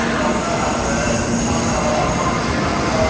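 A Shinkansen bullet train pulls into Kobe station with a loud, continuous rumble and faint wheel squeal, sustained throughout without anyone speaking.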